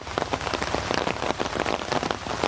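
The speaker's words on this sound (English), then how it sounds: "let me show you what it looks like when it's raining" Rain patters steadily on a hard surface, with dense, irregular droplet hits at a moderate level and no voices.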